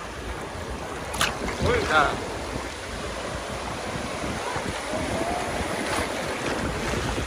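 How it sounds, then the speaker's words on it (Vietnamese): Sea waves roll in at Cồn Đen beach in Thái Bình on a windy, choppy day, a steady broadband wash of surf mixed with wind buffeting the microphone, with a brief exclamation from a person partway through. "Đây hôm nay là rất có sóng này."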